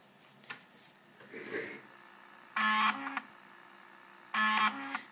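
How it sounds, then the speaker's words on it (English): An Amiga floppy drive's stepper motor seeks back to track 0 in two short, harsh mechanical buzzing bursts with a whirring tone. Quiet clicks and faint background noise fill the gaps between them. "That is the sound of the stepper motor going back to track 0."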